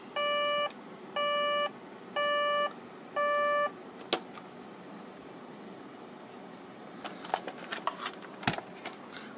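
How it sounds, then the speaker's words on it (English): A 1974 Micronta model 63-810 LED digital alarm clock, made in the USA, sounds its alarm as four evenly spaced electronic beeps, each lasting about half a second. Faint clicks and handling noises follow. "Okay, the alarm's about to go off. It's not super loud, but it's loud enough."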